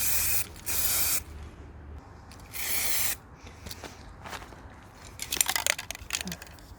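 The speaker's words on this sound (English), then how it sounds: "And I'll be spraying from above" Several bursts of spray paint hiss out from above, each about half a second to a second long, separated by pauses, followed by rattling and clicking handling noises.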